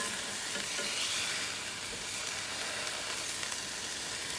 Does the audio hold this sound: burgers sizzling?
yes